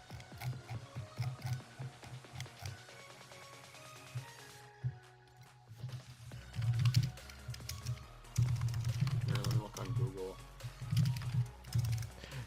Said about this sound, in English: it sounds like you're going crazy on the keyboard